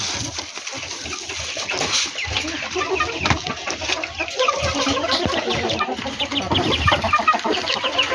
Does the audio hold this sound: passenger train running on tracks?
no